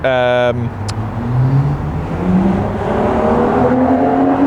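A modified hot hatch revs up hard from cold and climbs steadily in pitch, loud and close, after a brief high whine at the start.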